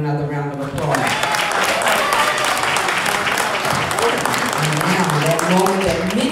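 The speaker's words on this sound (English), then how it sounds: "Let's give him another round of applause." An audience at a middle school moving-on ceremony breaks into loud, sustained applause, with a voice over the speakers at the start and end of the clapping.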